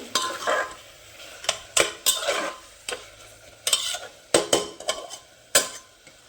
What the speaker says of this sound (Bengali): ধনে পাতাটা দিয়ে বেশ খানিকক্ষণ নাড়াচাড়া করে দেবো, যাতে ধনে পাতাটার সাথে মিশে যায়।